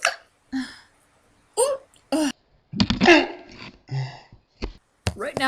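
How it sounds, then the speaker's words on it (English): Sharp, repeated hiccups from one person, spaced irregularly with pauses of silence between them, close to the microphone, with a short stretch of voiced sound partway through. "Right now, I have the hiccups"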